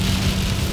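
Rain falls steadily on a rainy day in Greenville, SC, a dense, continuous hiss and patter with no voices.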